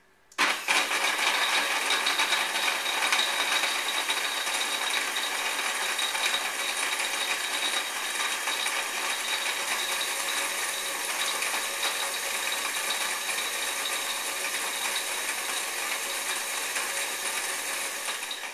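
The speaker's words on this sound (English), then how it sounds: "I'm actually just going to blend what I have in here right now, just to get the walnuts and the cashews blended up nicely" Walnuts and cashews being blended on a low setting make a continuous loud whirring motor roar with gritty rattling, steady for the whole stretch with no talk.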